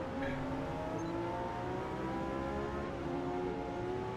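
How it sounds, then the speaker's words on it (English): A Lamborghini Reventon engine in a racing video game drones steadily and fairly quietly, its pitch slowly climbing and shifting as it revs in a continuous smooth tone. "The sound on the Reventon"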